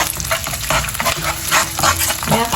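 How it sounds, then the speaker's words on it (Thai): Egg, vegetables and noodles stir-fried together in a pan, with a steady sizzle and the clatter of a spatula scraping and stirring throughout, close and fairly loud. "มิกไข่ผัดรวมกับผักนะคะ แล้วก็ผักกับเส้นเนาะ"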